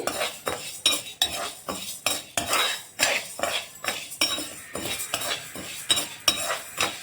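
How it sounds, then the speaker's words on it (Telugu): Homemade rasam powder spices roasting in a pan over medium flame, stirred with repeated rhythmic metal scrapes and knocks about twice a second, close and fairly loud over a soft dry crackle, with no voices. "మీడియం ఫ్లేమ్లో పెట్టుకుని వేయించుకోవచ్చు, కాకపోతే కలుపుతూ ఉండాలండి"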